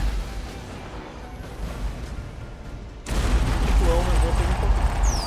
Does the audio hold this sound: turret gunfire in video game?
yes